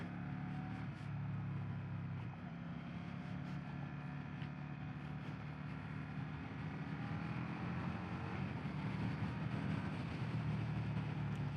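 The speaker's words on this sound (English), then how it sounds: "I have to say this engine likes to rev out" Riding a 2025 Indian Sport Scout Limited motorcycle, its engine hums in a steady droning tone with slight shifts in pitch, mixed with rushing wind, fairly quiet and continuous.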